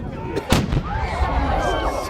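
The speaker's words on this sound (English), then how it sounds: "The cannon's going off." A cannon fires at a Sail Royal Greenwich fireworks event, one loud sharp boom early on, followed by a rolling echo and crowd noise that trails off.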